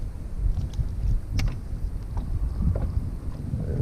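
Wind rushes over open water and buffets a small fishing boat on a bluegill outing, a loud, continuous low roar with mic rumble and occasional faint knocks, no talk.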